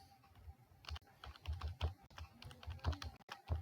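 Rapid clacking keystrokes on a computer keyboard while a print statement is typed in a Python script, with close, crisp, irregular taps running steadily throughout.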